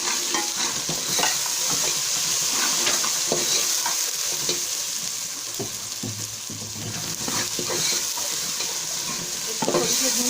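Spices with dried coriander and chilies roast in a hot pan, giving a steady close sizzle and crackle over about ten seconds, broken by the scrape and clatter of a spoon stirring.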